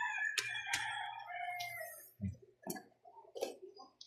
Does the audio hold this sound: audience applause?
no